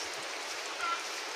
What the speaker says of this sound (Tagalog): Ulan na ulan po talaga siya guys.